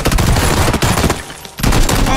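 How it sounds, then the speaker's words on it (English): Gunfire in a shooter video game, a shotgun headshot among rapid loud close shots, dense bursts with a short lull before firing resumes. "Headshot with the shotgun."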